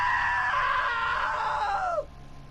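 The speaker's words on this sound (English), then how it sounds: "Now that was a great scream." A character in What Remains of Edith Finch lets out a loud, sustained high-pitched scream lasting about two seconds, ending in a falling wail before cutting off to quiet background.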